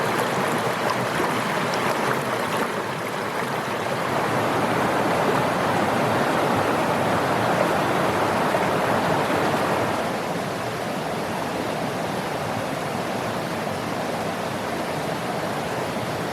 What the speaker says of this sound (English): this creek is so loud